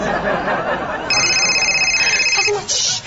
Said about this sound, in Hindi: कासिम डॉक्टर का फोन आया